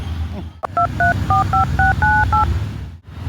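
A quick run of about eight keypad beeps, each a short two-toned chirp, tapped out in close succession over faint background noise.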